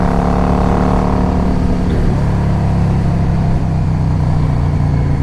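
A 2005 Yamaha V Star 650 motorcycle being ridden, its engine a loud, steady droning rumble with one brief shift in pitch partway through before settling into a continuous drone; no talking.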